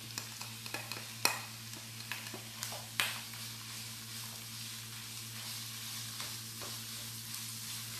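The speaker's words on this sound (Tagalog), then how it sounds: "Hayaan lang po natin mag brown po yung lamb natin, yung ground lamb natin" Ground lamb browns in a pan, giving a steady, fairly quiet sizzle broken by a few sharp clicks and scrapes of stirring.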